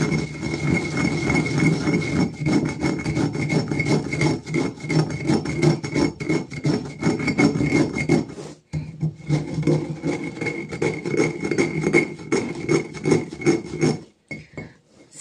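Steady, gritty rasping of raw rice being ground against the walls of a volcanic stone molcajete, continuous rubbing strokes close up, with a brief pause near the middle and another just before the end.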